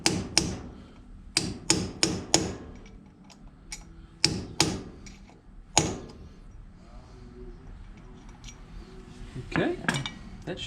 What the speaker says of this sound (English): Get you a good sized chisel, flat end, the one that you can kind of work around in there. And you're just going to bend that washer back flat